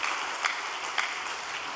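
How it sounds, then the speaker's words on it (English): Sustained audience applause fills the room at an even level, with a couple of louder individual claps popping out of the steady crowd clapping. "why don't we give a big round of applause to brothers and sisters in heavenly Japan to receive strength."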